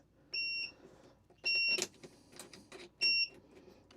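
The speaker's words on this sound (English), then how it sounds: "I hear the AC clicking and beeping" A 12V RV air conditioner gives three short electronic beeps with two-tone whistling pitch, spaced about a second apart, with faint clicking and rustling in between.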